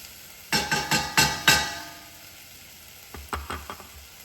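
Bone broth hits a hot pan for chili, giving two clusters of sharp, crackling sizzle bursts, the first longer and louder, the second a quicker run of short hisses, with quiet gaps between.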